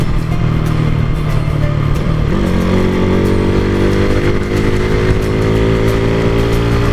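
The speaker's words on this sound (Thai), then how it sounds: "แล้วก็รอบรถมันก็ ดึงเข้าทุกเกียร์ด้วยครับ" A motorcycle engine revving close up and loud, its steady drone climbing in pitch as it pulls hard through the gears on the road.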